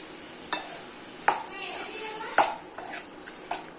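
Tomato chutney for dosa frying in a pan with curry leaves and cumin seeds, giving a soft steady sizzle broken by four or five sharp clinks of a stirring spoon against the pan.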